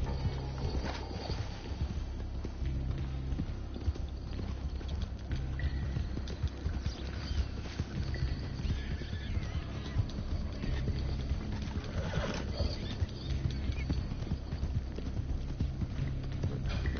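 Horse hooves clip-clop in a steady, even rhythm as a horse moves through a video game, with a low constant background and occasional soft game sounds layered in.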